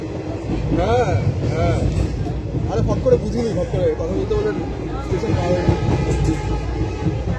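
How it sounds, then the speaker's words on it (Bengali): Local train in North Bengal running near Banarhat in cold weather, a steady rumbling ride with rail noise throughout, heard from inside a carriage with closed windows while someone talks over it. "আর এগুলো হচ্ছে আমাদের উত্তরবঙ্গের লোকাল ট্রেন।"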